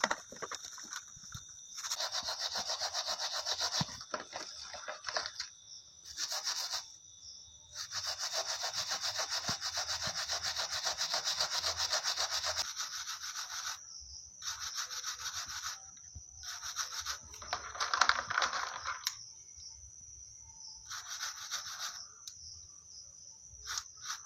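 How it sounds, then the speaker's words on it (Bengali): Gold jewellery being scrubbed clean with a brush at home, a steady rasping brushing in sustained strokes with brief pauses, fairly close and alone without talk. "এগুলো সবসময় হালকা ব্রাশ মারতে হবে।"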